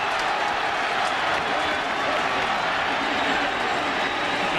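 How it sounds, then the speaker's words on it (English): A packed college football stadium crowd, Clemson fans in orange at the 1999 Florida State vs Clemson game, roars and applauds in one loud, unbroken wash of sound. "the folks wearing orange are standing, and they are cheering, and for very good reason"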